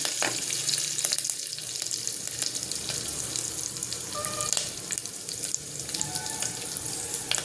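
Tempering for dal, spices with asafoetida frying in hot oil, crackles and hisses loudly and continuously, a dense close sizzle with small pops throughout.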